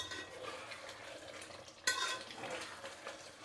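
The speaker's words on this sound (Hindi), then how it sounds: "मटन बहुत अच्छा भुन रहा है" Mutton browning in a pan for Champaran-style curry gives a steady close sizzle under scraping stirs, with one sharp clank of utensil on metal midway; no one speaks.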